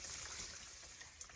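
Water poured into a pot over tender cabbage with an herb sachet, a steady close splashing trickle filling the short moment without pause.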